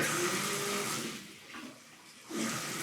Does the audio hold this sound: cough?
no